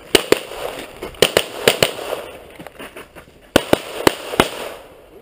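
Gunshots at a 3-gun shooting match ring out in sharp, loud bursts, some in quick pairs and others spaced apart, heard close by with no talking.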